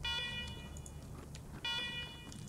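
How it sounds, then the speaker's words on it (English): An in-game alarm from the Wasteland 3 video game blares in two long electronic bursts, loud and continuous, over a rumbling background. "Let's turn off that alarm."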